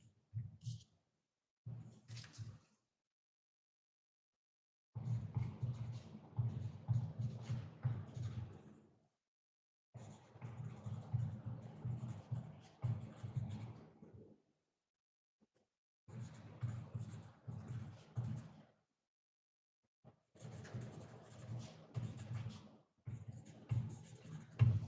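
Pen scratches on paper during a full moon releasing ceremony, coming in several long stretches of steady rustling strokes separated by silent pauses, close and fairly quiet.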